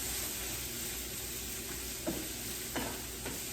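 Onions and peppers sautéing in olive oil in a pan, a steady soft sizzle with a few light stirring scrapes, close and continuous with no talking.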